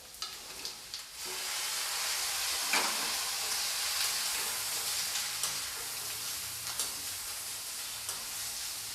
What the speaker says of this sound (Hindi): अब मैं इसमें डाल दूँगी कट किया हुआ परवल।